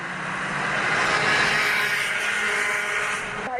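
Racing kart engines droning together on a formation lap at South Garda Karting during a WSK Super Master Series heat, a steady buzzing whine at moderate distance with a brief swell in the middle.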